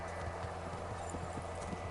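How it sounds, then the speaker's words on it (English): Horse hooves clip-clop at a steady trotting rhythm in the medieval video game Kingdom Come: Deliverance, close and clear over a low continuous ambient hum, with no talking. "I'll go to on horseback this time instead of fast travel"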